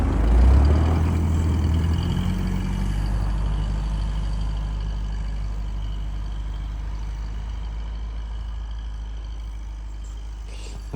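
A tentukha truck stuck in deep snow at -55°C revs hard, a loud low engine roar that surges at the start then settles into a sustained, gradually easing drone.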